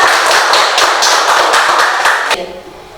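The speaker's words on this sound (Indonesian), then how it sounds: "Kita kasih aplaus dulu buat Faiza." A school class applauds for a student named Faiza with steady, rhythmic clapping that fills the room loudly for a little over two seconds, then cuts off abruptly.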